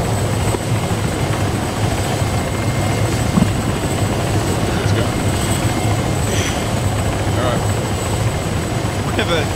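Helicopter in the ArmA 3 military co-op game, a loud, steady rotor and engine drone running through the whole stretch, with voices talking over it.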